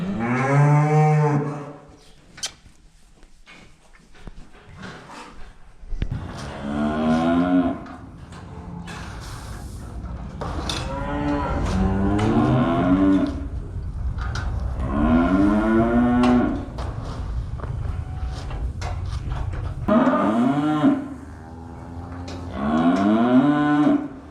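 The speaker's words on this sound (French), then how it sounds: "Ici, il y en a un qui mange pas, tout simplement parce qu'il y a une vache qui est en chaleur." Cattle in a barn, with one cow in heat, moo again and again in long, loud, drawn-out calls close by, separated by short pauses over a steady low barn background.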